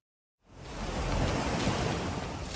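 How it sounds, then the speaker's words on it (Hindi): Floodwater after a cloudburst in Poonch, Jammu-Kashmir, surges in a broad, roaring wash that rises from silence and holds as a steady, dense rush close to the listener. "लहरों का ये शोर डरा रहा है"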